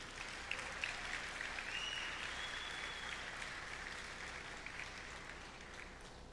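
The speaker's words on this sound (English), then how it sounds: "Give her a round of applause, please." Audience applause at a high school bands' spring concert as a senior is introduced, a steady wash of clapping from a crowd that holds evenly for several seconds.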